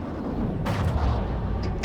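A missile volley launches from a ship in From the Depths, a sudden loud whooshing blast over a constant heavy rumble, followed by a couple of faint distant pops.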